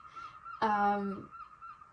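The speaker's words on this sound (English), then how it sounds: "like birds, they're connected to the tides come in, they start to tweet and make those noises" A goose-like bird gives a single loud, nasal honk close by on a tidal shore, rising over a steady high whistle-like background tone, with quiet ambience before and after.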